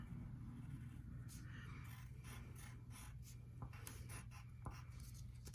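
Marker writing capital letters on a Mother's Day card, a series of short close scratchy strokes with small pauses between letters, faint and alone.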